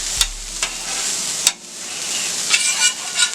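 Onions fry in a hot pan with a steady bright sizzle, broken by a few sharp clicks and scrapes of stirring, close up and without any talking.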